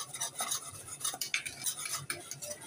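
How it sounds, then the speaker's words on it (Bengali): A spoon stirs semolina into milk in a pot, scraping and clinking against the metal in quick irregular strokes, close and fairly quiet, with a faint sizzle underneath. "আমি ফ্রিজ দিয়ে ভালো করে নেড়ে চেড়ে নিচ্ছি সুজিটাকে, দুধের সাথে মিশিয়ে নিচ্ছি।"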